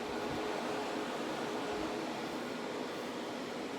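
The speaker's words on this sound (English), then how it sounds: "It's all these like 120 fans. I mean, they're definitely like high flow fans." High-flow 120 mm fans in a Supermicro 4U 48-bay server roar with a dense, continuous broadband whoosh, steady and uninterrupted like a vacuum cleaner.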